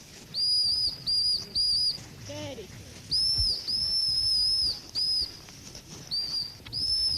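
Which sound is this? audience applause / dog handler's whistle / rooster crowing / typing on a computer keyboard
dog handler's whistle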